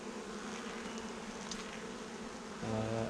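Honey bees buzz around an open hive during an inspection, a dense, continuous close-up drone that swells with a louder, tonal buzz near the end.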